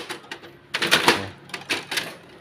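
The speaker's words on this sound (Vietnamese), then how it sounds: "Mình đóng nắp lại nhé." Side cover of an HP LaserJet Pro M401dn printer shut by hand, a few close plastic clacks and a firmer snap in the middle, with light rattling around it.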